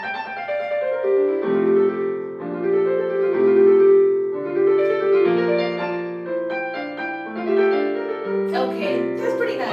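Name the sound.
electronic keyboard demo song playing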